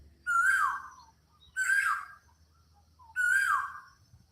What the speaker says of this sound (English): This bird is rowdy.